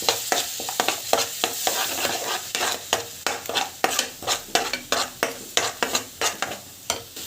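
Ground tomato paste being sautéed in a pan, a rapid series of loud, close spoon scrapes and knocks against the pan over a constant sizzle, quickening toward the end, with no one speaking.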